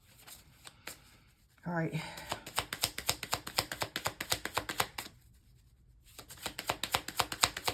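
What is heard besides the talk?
shuffling crystal cards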